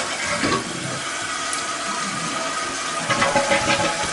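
Water runs steadily into a toilet tank while its fill height is adjusted, a loud continuous rushing and hissing flow with slight shifts in tone near the end.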